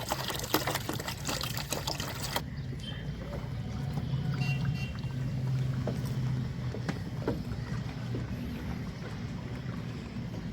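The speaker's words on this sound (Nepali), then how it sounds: "मैले फेरि अर्को 1 लिटर पानी हाले" Water pours steadily into a container while making homemade soap, a continuous close trickle and splash that carries on throughout with no talking.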